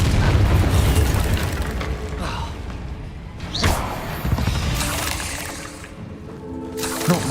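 Booming spell explosions in Hogwarts Legacy fire off one after another amid loud, dense game effects and rumbling, with sharp bursts near 2.2, 3.6 and 7 seconds.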